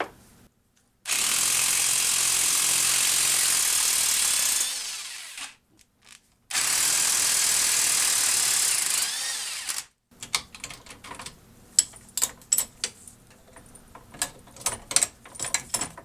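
Two long, loud bursts of a whirring power tool, then a run of sharp, irregular ratcheting clicks, as a stuck socket is worked loose on the front strut of a 2013 Toyota Prius V.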